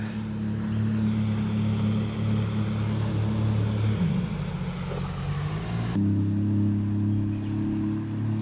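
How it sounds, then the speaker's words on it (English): A jet ski running along the Campaspe River gives a steady, droning engine hum that holds fairly constant and shifts pitch partway through, heard from a riverbank fishing spot without talk. "A jet ski going down the Campaspe River."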